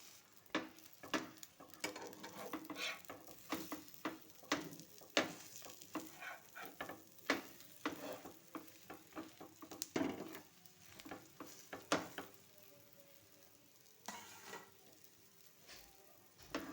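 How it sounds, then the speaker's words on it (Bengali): Bread dipped in egg fries in a pan for a breakfast dish, giving a steady close sizzle and crackle broken by frequent sharp clicks and scrapes of a utensil against the pan. "ওই দিকটা ভাজা হোক।"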